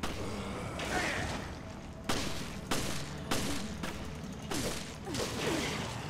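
Gunfire in the video game Resident Evil Revelations: several sharp shots spaced about a second apart over a constant dense background rumble, loud and close.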